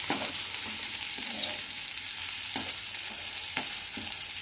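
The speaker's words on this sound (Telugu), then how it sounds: "ఈ కలర్లో చేంజ్ అయ్యేదాకా ఫ్రై చేసుకుంటే సరిపోతుంది." Steady sizzling of food frying in a pan, with a few soft stirring scrapes now and then; no voices.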